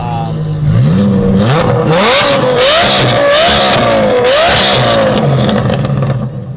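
A Lamborghini Huracan with a Valvetronic F1-style exhaust revs hard and loud, its exhaust note rising and falling repeatedly in a continuous roaring, crackling drone.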